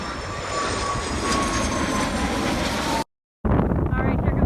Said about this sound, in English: here comes another big plane,